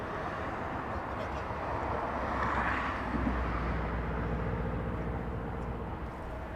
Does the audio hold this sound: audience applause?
no